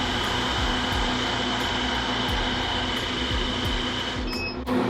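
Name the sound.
screen printing exposure unit vacuum running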